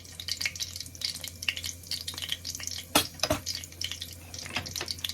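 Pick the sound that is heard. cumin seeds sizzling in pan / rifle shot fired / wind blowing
cumin seeds sizzling in pan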